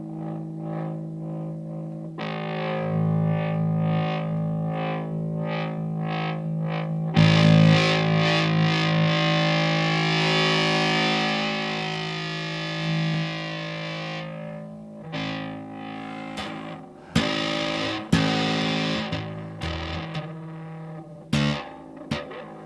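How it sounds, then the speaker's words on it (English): Distorted bass guitar played through a fuzz pedal and split in stereo into two amps, thick sustained fuzzy notes with brief gaps and choppy stabs toward the end, loud and alone without talk. "sound better with fuzz on"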